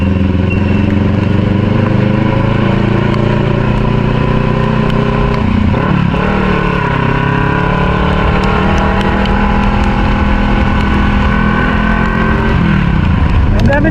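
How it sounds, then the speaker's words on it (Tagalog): A Kawasaki Ninja 650 motorcycle engine runs loud and close in a steady, continuous drone during heavy rain and flooding by the Marikina River, with a brief shift in pitch midway. "Ang gamit nating motor ngayon yung ating Kawasaki Ninja 650, guys."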